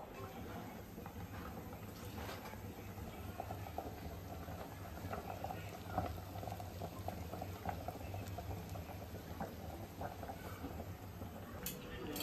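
Chicken simmers in a pot of water with spices nearby, a soft, continuous bubbling and gentle popping over a low hum, fairly quiet and steady throughout.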